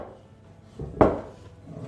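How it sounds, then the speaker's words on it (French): Brioche dough kneaded by hand on a work surface, with soft handling noises and then one dull, heavy slap as the dough lands, followed by quieter rubbing. "Je continue toujours à pétrir ma pâte."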